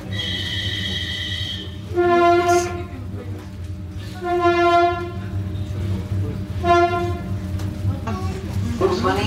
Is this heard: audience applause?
no